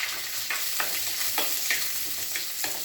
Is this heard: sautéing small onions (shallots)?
yes